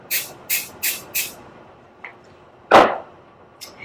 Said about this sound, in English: The reason why you want to have spray adhesive on this is so that the polyester moves around a lot.